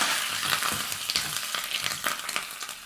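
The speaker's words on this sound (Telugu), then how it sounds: "పోపు ఇలా వేగింది కదా, ఇందులోనే 2 రెమ్మల కరివేపాకు." Tempering of mustard seeds, dried red chillies, cumin and asafoetida with curry leaves frying in hot oil, a steady close sizzle with bursts of crackling spatter, no talking.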